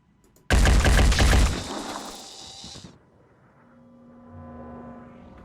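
A sudden, loud burst of automatic gunfire in the strategy game Phoenix Point lasts about a second, rings out and decays, leaving a low mechanical hum and faint tones afterward.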